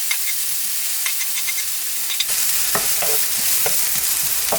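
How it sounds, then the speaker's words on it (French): Onions frying in hot oil in a preheated pan, a steady loud sizzle with occasional stirring clicks and scrapes throughout, no talking. "Vu que j'ai laissé ma poêle chauffer, l'huile elle va chauffer assez vite. Donc je vais de suite mettre mes oignons."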